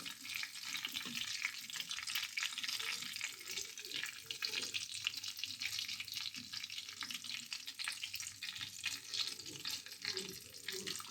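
Dried chillies and whole cumin sizzle in hot oil for a Bengali pumpkin and prawn dish. The frying hiss is steady and unbroken from start to finish.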